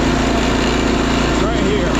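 A Wheel Horse garden tractor swapped to a Predator small engine runs at full throttle with a steady, loud, continuous drone, and a voice talks over it.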